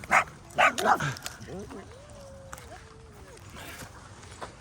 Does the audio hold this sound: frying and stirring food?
no